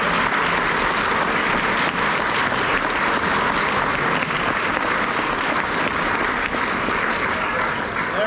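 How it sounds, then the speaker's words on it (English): A breakfast crowd at a Knights of Columbus father and son event claps for the kitchen ladies and servers, a dense, even wash of applause that holds steady throughout. "How about a quick round of applause for the ladies in the kitchen and our young lady servers."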